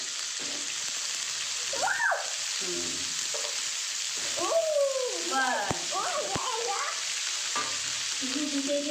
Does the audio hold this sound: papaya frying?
yes